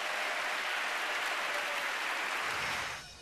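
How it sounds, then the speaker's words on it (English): Audience applause for a girls' school choir after a performance at a senior semi-final of a choir competition, a dense, steady wash of clapping that carries almost to the end before fading out. "a huge round of applause for Godolphin!"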